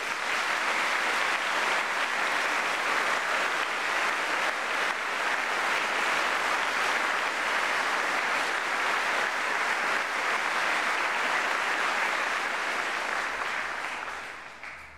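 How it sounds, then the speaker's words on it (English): Sustained applause from a large audience at a university graduation ceremony, a thick wash of clapping holding steady for many seconds before fading away at the close. "show your appreciation for these staff with another round of applause"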